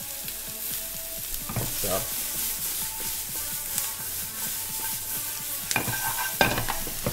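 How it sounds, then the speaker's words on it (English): Brussels sprouts searing in a pan, a soft steady sizzle with occasional scrapes and turns of a utensil, plus a louder burst of stirring near the end, with one brief spoken word. "the Brussels sprouts are like starting to sear up really well"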